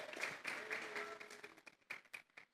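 A church congregation claps hands together as an offering of praise, with uneven rhythmic bursts that thin out into scattered claps. The sound is quiet and somewhat distant, with faint voices beneath.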